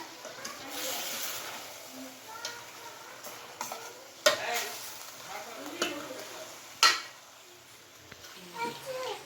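Chicken liver and heart masala being stirred in a pan, a soft sizzle with intermittent scraping and two sharp knocks of a spoon, with voices talking faintly in the background.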